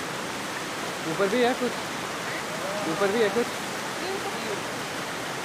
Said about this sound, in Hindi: ये सीक्रेट वाटरफॉल है, यहाँ पे ज़्यादा भीड़ नहीं होती।